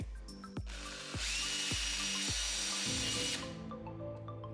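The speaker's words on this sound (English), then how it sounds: "drill the hole just a bit" A power drill whirs steadily for a couple of seconds, drilling a hole in a kayak for an anchor trolley, preceded by several sharp knocking impacts, then winds down with lingering clatter.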